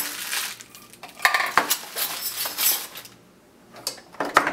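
GSI Bugaboo backpacking cookware being packed back into its pan: a series of close metallic clinks, clatters and scrapes of nested pots and utensils, with brief louder knocks and a quiet pause near the end.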